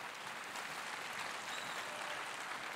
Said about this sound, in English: Let's give Bruce a big round of applause this morning.